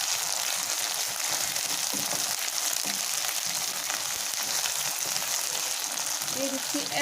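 Loitta dried fish sautés in an oiled pan with a dense, steady frying hiss that runs unbroken throughout, close by, with a few faint scrapes of stirring beneath it.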